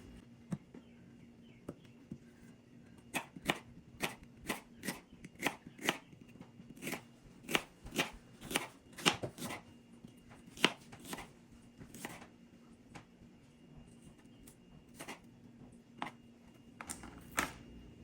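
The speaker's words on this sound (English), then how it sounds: "I'm gonna cut up my onion, and I'm gonna cut this into feathers" A knife chops an onion into thin feather slices on a cutting board, sharp rhythmic taps in bursts, close up and fairly quiet, with no talk.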